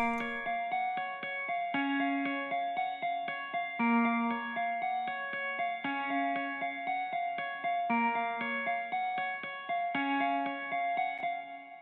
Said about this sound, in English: that is being played in Omnisphere on a lap steel guitar